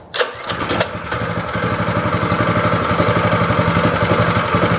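Greyhound 6.5hp small engine cranks and fires on full choke, a sharp pull-start burst followed by a steady, loud, rapidly pulsing idle close by, with no talk.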